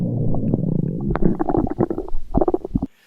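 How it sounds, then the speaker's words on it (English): A hungry stomach rumbles loudly in a quiet room as hunger contractions gurgle, with a low drawn-out growl followed by irregular bubbling squelches before it falls silent. "When you are sitting in a silent room and suddenly your tummy makes this sound."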